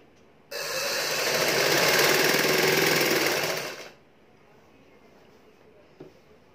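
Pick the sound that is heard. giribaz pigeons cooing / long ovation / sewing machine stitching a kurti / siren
sewing machine stitching a kurti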